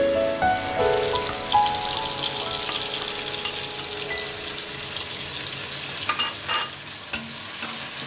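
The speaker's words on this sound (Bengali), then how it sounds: "এখন আমি এগুলো মশলাগুলো ভালো করে কষে নিব" Spices sizzling in oil with fried onions while chicken and potato are cooked, a spoon stirring and scraping the pan in repeated strokes; steady close frying hiss with clinks, no talk.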